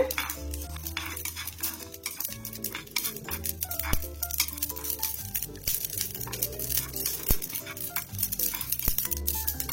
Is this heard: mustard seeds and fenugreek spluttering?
yes